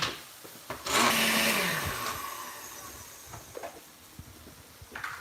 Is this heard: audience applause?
no